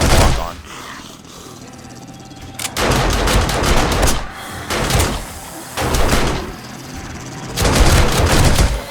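Automated turrets fire on a zombie horde in the video game 7 Days to Die, loud bursts of rapid gunfire in several separated volleys with quieter gaps between.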